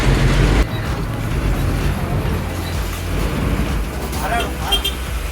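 A small private bus on the Chalakkudi–Malakkappara route pulls away, its engine a loud, steady rumble that holds through the whole stretch with a heavy low drone and no voices.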